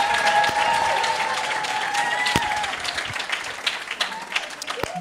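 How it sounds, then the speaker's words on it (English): An audience at a university research day applauds, producing a dense, steady clapping that stays fairly loud and then thins toward the end, with a few isolated claps. "may we clap hands for"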